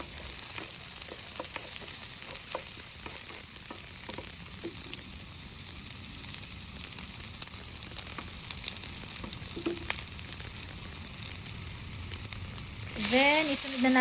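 Spices and onion sauté in a pan for sarciado, giving a steady soft sizzle with occasional scraping stir sounds, and a brief sharper clatter near the end.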